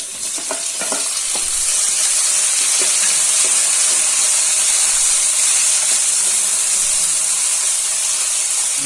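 Chopped onions sauté in a pan for an egg gravy, a loud, continuous frying hiss and sizzle with occasional clicks of stirring near the start.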